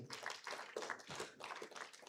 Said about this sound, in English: Please, can you clap for her once more time?